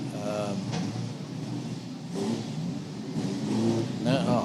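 Vintage race cars heading onto the Angoulême Remparts street circuit, engines revving and rising in pitch in several bursts close by, with people talking over the sound.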